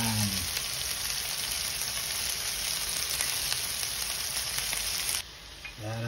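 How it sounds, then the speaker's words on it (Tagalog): Meatballs fry in a pan, browning before a jarred Dolmio sauce goes in, giving a steady close sizzle with faint stirring scrapes that cuts off briefly near the end. "Ilagay naman natin ang ating meatballs. Lutuin natin siya."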